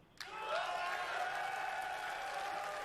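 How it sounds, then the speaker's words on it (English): A crowd at the Xbox X019 fan event bursts into loud, sustained cheering and applause that starts abruptly and holds steady at full strength. "I'm going to let them cheer at that one."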